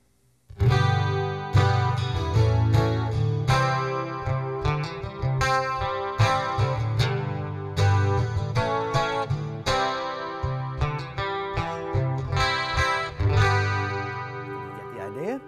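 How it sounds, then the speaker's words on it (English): An Ibanez Montage electric guitar plays shimmering, doubled chords and plucked notes with a warbling chorus effect, strummed rhythmically at a steady, fairly loud level. "we'll put the chorus effect on top of that so you can hear what the chorus effect sounds like."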